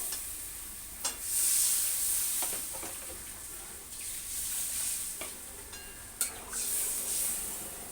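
Water is poured onto sizzling fried masala in a pan, setting off bright hissing bursts over a constant frying crackle, with stirring scrapes nearby.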